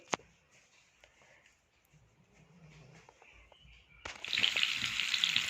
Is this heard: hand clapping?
no